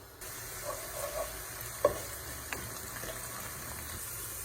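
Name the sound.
onion sautéing in oil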